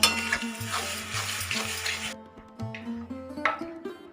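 Spice paste with tomato and peas sizzles in a pan for a potato and cauliflower curry, a loud bright hiss for about two seconds that then cuts away, leaving softer stirring clicks over a low, steady melodic background.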